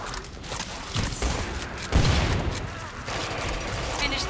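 Gunfire in the video game Killing Floor 2, dense overlapping shots and bursts with heavier thumps, loud and continuous throughout the fight.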